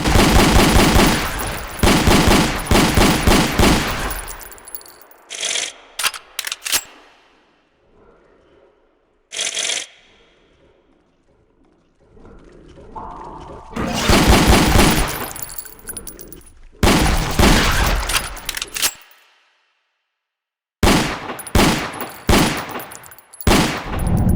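Gunfire in the post-apocalyptic shooter Ashes 2063, including pistol shots, comes as loud close bursts of rapid shots separated by quiet gaps, with several clusters spread across the stretch.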